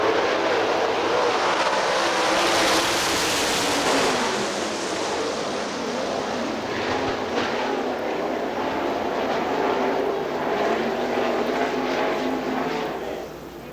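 Sprint cars roaring through a heat race at Hartford Speedway, a dense, loud blend of multiple engines revving and passing, swelling and fading around the oval with a steady crowd-like wash beneath.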